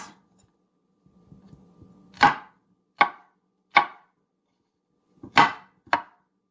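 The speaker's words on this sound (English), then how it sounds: "And then just mince." Knife mincing smashed garlic on a cutting board for a pasta dish: five sharp, loud chops spaced roughly evenly after a soft rustle.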